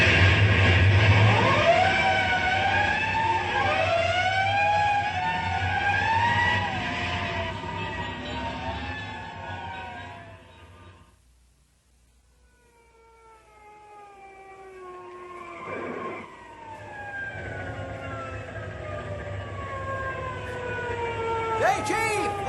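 A fire engine siren wails in rising and falling sweeps as the truck responds to a box alarm on a vintage radio drama, loud and steady, dipping briefly before climbing again toward the end.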